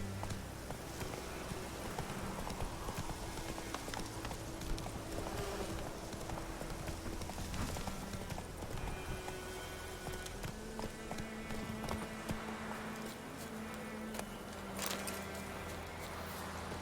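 Roach, the horse in The Witcher 3, gallops with a steady, rhythmic clip-clop of hooves that carries on for the whole stretch, with soft game music underneath.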